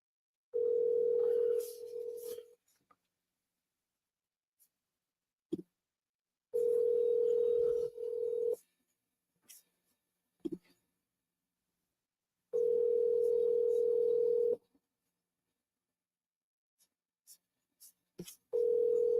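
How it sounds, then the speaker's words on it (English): Telephone ringback tone heard while a call is being placed, three long steady buzzing rings separated by silent gaps, with small handling clicks between them. "Let me just call Tom."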